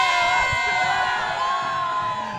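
A homecoming football crowd cheers and whoops loudly, with excited shouting and high yells that rise at once and then sustain.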